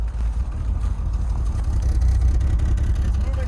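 A BMW E46 idling at around 750 rpm, a steady low rumbling engine drone heard up close, continuous and even with no revving.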